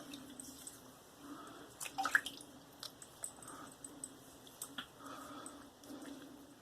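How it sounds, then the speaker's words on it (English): Soft splashes and drips of water as a man re-wets his face before shaving, with quiet scattered wet slaps and trickles close by. "Alright, let me re-wet my face."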